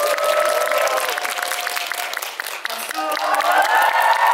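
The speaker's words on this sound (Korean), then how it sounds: "큰 박수로 맞이해주세요." A film Q&A audience for the movie 'The Night Owl' greets guests with loud, sustained applause and scattered cheers, while voices talk and call out over the clapping.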